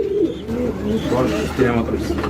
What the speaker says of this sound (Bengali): এটা হচ্ছে মাদি কবুতর আর পাশাপাশি ওই পিছনে একটা নর কবুতর